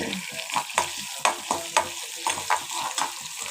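Onions, dried red chilies and curry leaves sautéing in a pan, a steady sizzle broken by repeated stirring scrapes at an uneven rhythm, close and moderately loud with no talk.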